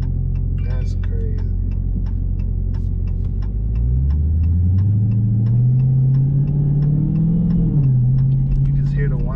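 Supercharged Dodge Hellcat Redeye V8 under way, a steady engine rumble with a rising supercharger whine that climbs in pitch as the car accelerates, heard from inside while people talk.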